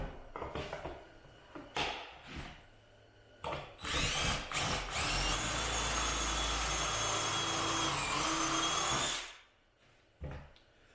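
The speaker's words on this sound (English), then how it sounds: "You guys can put a pocket hole screw in." A power drill drives a pocket hole screw into a piece of plywood while building kitchen, bath and laundry cabinets for a mobile home renovation. A few short whirring bursts lead into one loud, sustained drilling run of several seconds that then cuts off, with no talking.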